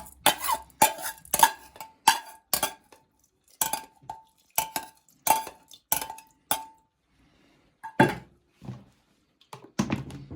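Closing a multicooker while cooking plov brings a series of close, sharp plastic and metal thunks and clinks in uneven bursts, with short quiet gaps between them.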